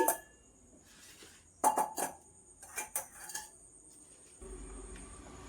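A metal strainer clinks and clatters against pots as sugar syrup is drained in a home kitchen, with a few sharp metallic knocks in clusters, then a low steady rumble near the end.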